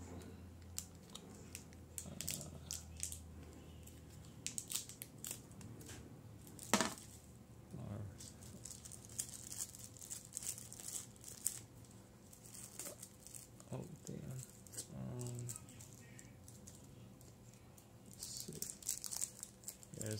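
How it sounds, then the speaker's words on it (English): Plastic wrapping being pulled off a 1/5.5 scale PVC figure and its large stand, faint crinkling and rustling with occasional snips and taps, quiet and close, with some talking. "Let's take off all the plastic."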